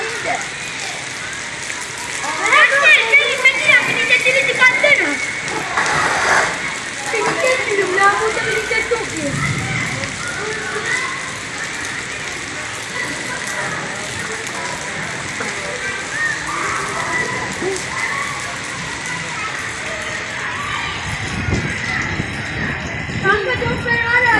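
A sudden heavy rain shower patters steadily outdoors, mixed with hollow clopping knocks, while people talk loudly over the rain throughout.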